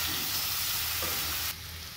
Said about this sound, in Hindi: अभी हम सब्जी में सारे मसाले को अच्छे से मिक्स कर लेंगे।